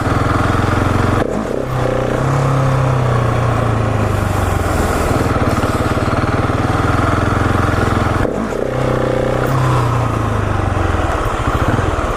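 A 701 supermoto motorcycle roars loudly and up close at a stunt lot, with its engine rising and falling in first gear through a wheelie. The throttle is cut sharply twice, each time followed by a rough, rising revving.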